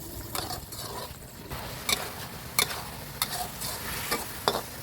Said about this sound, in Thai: พอใส่ลงไปแล้วก็คนให้ทุกส่วนของมะเขือ สัมผัสกับน้ำร้อนๆนะครับ